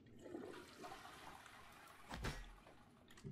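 A toilet flushes in the game Prey, a rushing watery swirl building to a strong gurgling surge near the end, fairly close and heard without anyone talking.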